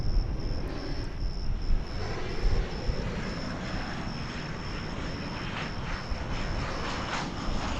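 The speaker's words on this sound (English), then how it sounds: "Right here on our stage is Alaska Airlines Flight 466 from Portland, Oregon." An Alaska Airlines Boeing 737-900 jet at DFW Airport gives a broad, continuous engine roar and rumble with a steady high whine, loud and sustained, no talk.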